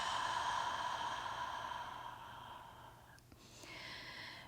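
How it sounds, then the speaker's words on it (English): A long, breathy exhale through the mouth during yoga breathing fades out slowly, followed by a shorter, softer breath close to the microphone. "Deep inhale through the nose and audible exhale out through the mouth."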